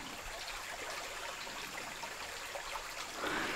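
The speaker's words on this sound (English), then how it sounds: "there is overflow coming out from the top of the bucket. And you can kind of see the water flowing in right there." Creek water pours steadily into a bucket feeding a hydraulic ram pump outdoors, a constant close trickling and splashing flow that brightens slightly near the end.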